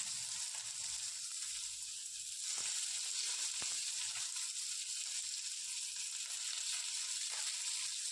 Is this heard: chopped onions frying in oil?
yes